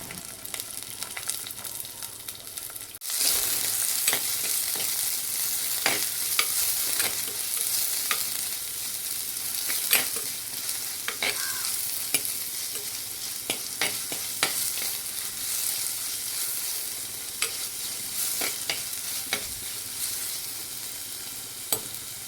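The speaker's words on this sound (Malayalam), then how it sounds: "അതിനുശേഷം നമ്മൾ ദേ സവോള അരിഞ്ഞു വെച്ചതാണ് കേട്ടോ ഇടുന്നത്" Chopped onions hit a hot pan with green chillies, breaking into a sudden steady sizzle that continues with crackles and occasional stirring scrapes, close and even throughout.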